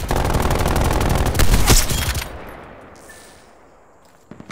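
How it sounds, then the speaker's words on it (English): Rapid automatic gunfire from Call of Duty Black Ops Cold War, a loud dense burst of shots with a sharp blast partway through, then trailing off into quiet game ambience with a couple of faint clicks. "Where are you shooting me from?"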